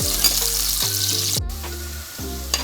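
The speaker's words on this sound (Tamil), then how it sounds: "பெரிய வெங்காயம் கொஞ்சம் வதங்கட்டும்" Large onions fry until browning in a pan for vegetable kurma, a close, steady sizzle punctuated by a few sharp spoon knocks against the pan at irregular intervals.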